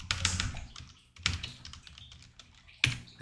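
Typing on a computer keyboard while entering automation code, with close, quick bursts of key clicks and short pauses between groups of strokes.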